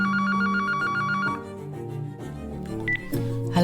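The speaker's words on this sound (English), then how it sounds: "And then the phone rang." A telephone rings with a rapid repeating electronic bell trill, then breaks off into other tones and music-like layers, fairly loud with no voices.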